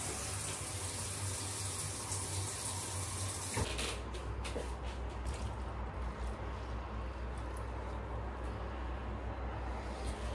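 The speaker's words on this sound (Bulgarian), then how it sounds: "Леко хладка вода." A kitchen tap runs lukewarm water in a steady rushing stream for about ten seconds, close and fairly loud, the sound shifting partway through as the flow changes.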